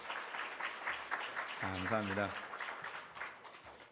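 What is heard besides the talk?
congregation applauding the group leaders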